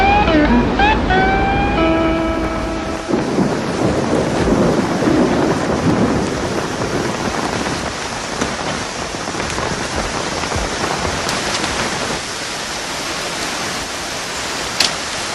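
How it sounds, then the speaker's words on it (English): Heavy rain in the Australian bush pours in a loud, continuous rush with a deep rumble underneath; a few brief tones sound at the very start. "it takes an awful lot of rain to make them flow like this"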